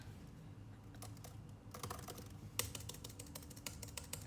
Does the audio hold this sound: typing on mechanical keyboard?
yes